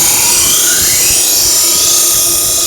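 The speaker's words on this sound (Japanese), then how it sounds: "今これは地金の削りやんのな" A loud, steady high-pitched whine of a grinder cutting into the soft iron body of a hand-forged knife in an old machinery workshop, continuous and close with no talk.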